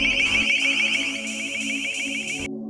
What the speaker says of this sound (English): or long-range acoustic device.